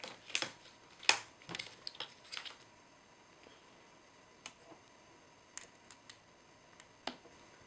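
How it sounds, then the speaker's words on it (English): Small metal clicks and ticks as an Allen key is worked out of a G&G SG 550 airsoft lower receiver: sharp, close taps in an irregular cluster, then sparser clicks after a short quiet pause. "I always like to remove the Allen key first"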